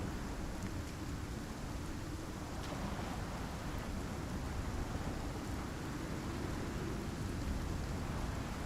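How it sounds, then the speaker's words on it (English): Heavy storm rain pours down outside in a dense, constant hiss and rumble, steady and fairly loud throughout with no voices. "yeah, the storm's going pretty hard"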